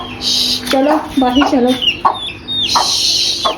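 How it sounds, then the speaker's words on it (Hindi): A hen that has come indoors to attack another hen clucks loudly and close by in a house, its sharp repeated clucks overlapping with someone speaking. "और मुर्गी अंदर आई हुई हमला करने"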